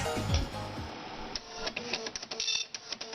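A dot matrix printer prints with a rapid, buzzy, chattering rasp, and its print head rattles in quick irregular bursts close to the listener.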